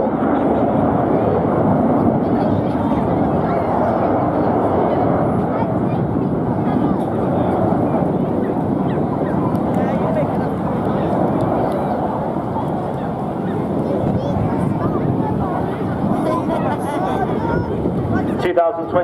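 Red Arrows display jets passing over Swansea Bay at the 2022 air show, a loud, sustained roar that swells and fades gradually with steady wind rush, close and dominant throughout.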